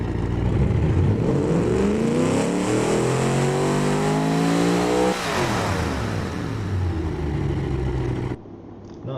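A cross-plane engine in a mid-engine late-1960s muscle car in the Automation game revs loudly, climbing steadily in pitch, peaking mid-way, then easing back down before dropping off abruptly at the end.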